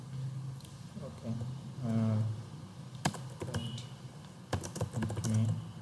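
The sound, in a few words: typing code on a computer keyboard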